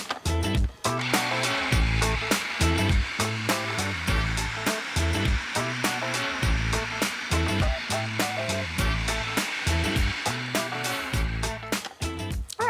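A blender motor runs continuously while blending a herby roasted zucchini dip as olive oil is slowly added, a loud, close, rough whirring that pulses slightly throughout, with no talking.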